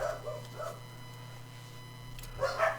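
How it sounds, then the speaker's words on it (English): Dogs bark faintly in the distance, a few scattered yips at the start and again near the end, over a steady low hum with no talk. "Dogs are barking again."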